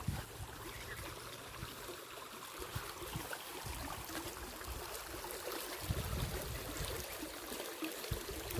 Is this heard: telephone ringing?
no